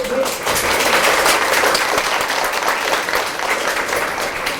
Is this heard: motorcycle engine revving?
no